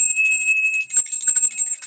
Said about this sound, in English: we're going to get rid of any negative energy with the bell